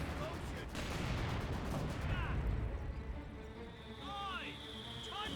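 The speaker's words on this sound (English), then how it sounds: "Assault section taking some severe damage from the mortars" Mortar fire in the World War II strategy game Company of Heroes 2, with thuds and bursts of battle noise running under a commentator's continuous talk, whistling shell sounds rising and falling among the impacts.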